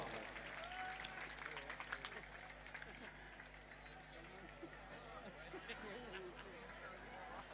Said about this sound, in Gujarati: હા જોરદાર તાળીઓથી વધાવો કમાભાઈને.